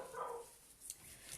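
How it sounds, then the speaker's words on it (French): A dog barks faintly in the distance, a short burst of barks followed by a lone softer yelp, all quiet and far off. "vous entendez le chien aboyer là"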